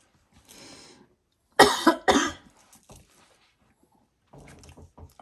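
Two sharp, loud coughs in quick succession, preceded by a softer breathy throat sound and followed by quiet rustling noises.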